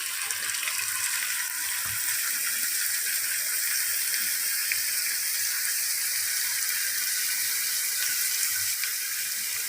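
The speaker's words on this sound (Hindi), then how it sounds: "इसी मसाले में गोभी डाल देते हैं।" Cauliflower cooks in a chicken and yogurt masala, giving a steady, close hiss of sizzling and bubbling that continues evenly throughout without talk.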